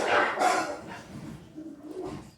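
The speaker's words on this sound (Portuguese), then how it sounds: "Eu acho que tem cachorro brigando aqui em casa, mas já pararam." Dogs at home bark and scuffle in a short, busy burst, with growling and snarling close by and no talk.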